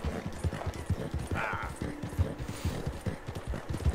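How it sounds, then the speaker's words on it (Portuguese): A horse in the video game Red Dead Redemption 2 trots with a steady, close clip-clop of hooves, its breathing rough and wheezy, with a short raspy snort partway through. "Só escuta esse cavalo, ó."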